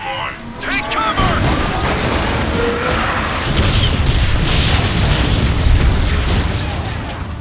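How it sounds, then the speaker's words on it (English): Artillery strike explosions in a Transformers Prime mod of a video game, a dense continuous barrage of booms and crashing blasts filling the whole stretch at steady loudness, with voices talking over it. "I'd be curious as to what an artillery strike would do to that marauder."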